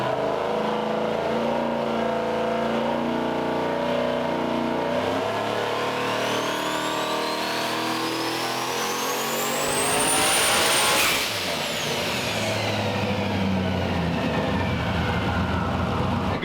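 Built turbocharged Chevrolet S10 engine on a dyno, revving hard and climbing steadily in pitch with turbo whine, peaking loudly near the end before backing off, with no talk.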